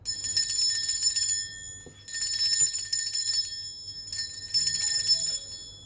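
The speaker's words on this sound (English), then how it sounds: "I'm going to be cleansing the space around us by ringing a bell" A bright metal bell is struck three times, each ring shimmering and slowly fading in a quiet room.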